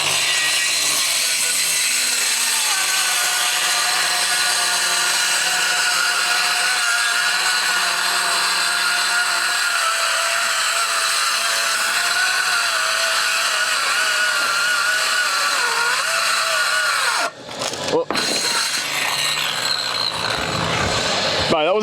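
A Ryobi power saw rips steadily through wood on a jobsite for about seventeen seconds, a loud sustained whine that ends abruptly in a few clattering bumps as the cut finishes, with voices talking underneath.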